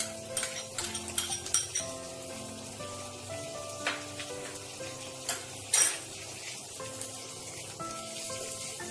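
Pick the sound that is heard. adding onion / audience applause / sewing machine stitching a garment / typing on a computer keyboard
adding onion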